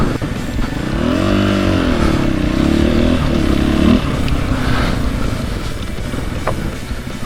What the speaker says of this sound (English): This is one hell of a dual sport motorcycle.